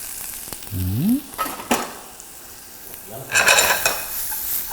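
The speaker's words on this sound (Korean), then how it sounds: "엑스트라 버진 올리브오일에다가 마늘을 먼저 넣으시고 쪼글쪼글" Garlic sizzles in extra virgin olive oil in a pan, with a close, crackling hiss that surges in bursts as it is stirred and a brief squeaky tone early on.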